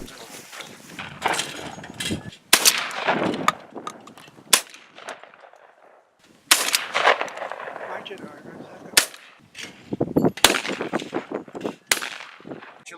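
Guns fired during recreational shooting outdoors, with a series of sharp, loud reports at irregular intervals, some in quick bursts and others spaced apart, echoing with noisy gaps between shots.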